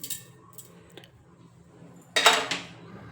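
Fenugreek seeds spooned into a mixer jar: a few light clinks and taps, then a brief, bright rattling pour of seeds near the end, close and fairly quiet.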